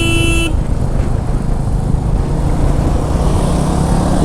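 Royal Enfield Meteor motorcycle riding on an open road, a steady engine rumble under heavy wind rush, preceded by a brief horn toot at the start.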